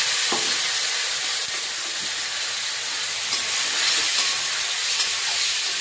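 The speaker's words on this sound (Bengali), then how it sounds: "এবার মাংসটা দিয়ে দিলাম, একটু তার সাথে জল দিয়ে দিলাম" Chicken and water go into a pan with papaya, producing a steady, loud sizzle and steam hiss that stays close and continuous, with no voices.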